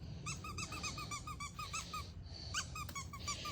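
A dog's squeaky toy squeaks in a rapid run of sharp, high squeaks, then a short pause and another burst, over a steady low background rumble.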